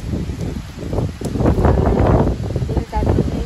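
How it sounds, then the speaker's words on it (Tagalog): Strong gusting typhoon wind roars with steady rain noise in a continuous loud wash, heard from a window in Hong Kong, with faint voices mixed under it. "malakas ang hangin at saka ulan"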